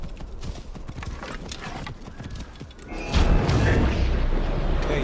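A horse's hooves clip-clop in quick uneven beats in a video game, then a loud, dense rumble swells up and holds.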